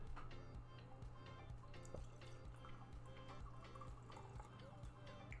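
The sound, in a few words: pouring Macallan Highland single malt Scotch whisky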